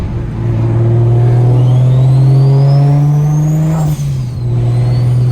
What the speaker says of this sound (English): it's spooling so much faster since it's a ball bearing